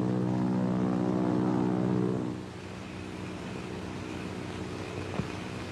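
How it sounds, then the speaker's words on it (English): A steady droning engine hum with a rotating buzz, like a propeller plane passing overhead, loud at first then easing to a lower continuous drone. "Do you hear a plane?"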